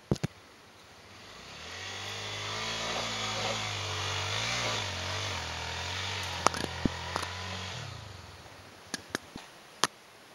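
A motorcycle rides through sandy ground at Ibitipoca, its engine droning and rising then falling over several seconds at moderate distance, with a few sharp clicks and knocks near the end.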